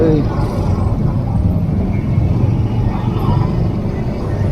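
Dense city street traffic in a jam, a steady low rumble of idling and creeping cars and motorbikes close by, continuous throughout with faint voices mixed in.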